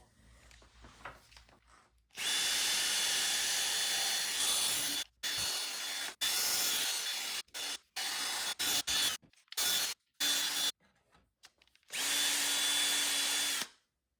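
Power drill spinning an 800-grit sanding disc from a 3M Ultra headlight restoration kit against a Toyota FJ Cruiser headlight, a loud steady whine in long runs broken by short stop-start bursts, no talking.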